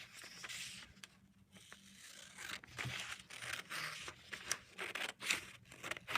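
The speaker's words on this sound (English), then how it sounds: "So once again, I'm going to cut those table of contents pages." Scissors cutting table of contents pages for a paper notebook, giving a series of quiet close snips and paper rustles in an uneven rhythm, fairly faint, with no speech.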